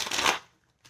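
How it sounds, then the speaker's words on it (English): A deck of tarot cards is shuffled in one quick burst of dense papery riffling, loud and close, then silence with a brief soft rustle at the end. "the shuffling is horrible today"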